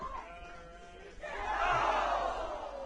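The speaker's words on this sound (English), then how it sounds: "the crowd getting into it as well." Spectators and fellow climbers cheer and yell at a bouldering competition in an indoor rock gym, the crowd noise swelling into a loud sustained roar after a quieter start.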